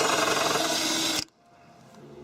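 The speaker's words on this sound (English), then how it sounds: "We're going to take our drill now and drill through the gutter into the spout" A power drill bores through a metal rain gutter into a downspout outlet, whirring loudly and steadily before stopping abruptly, leaving a faint background hum.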